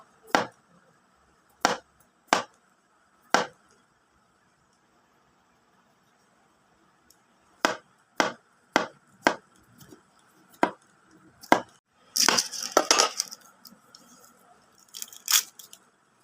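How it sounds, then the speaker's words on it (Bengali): A knife chops food very finely on a board, with sharp isolated strikes at first and then a quicker, denser run of cuts, close and clear with no talking. "খুব কুচি কুচি করে কাটতে হবে বন্ধুরা"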